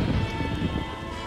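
Rain falls at night in the Red Dead Redemption video game, a steady hiss with faint low rumbling, brief and fairly quiet, with no talking.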